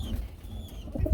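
Chocolate grizzle racing pigeons give a brief, soft, low coo nearby, a short throaty burble with no talking over it.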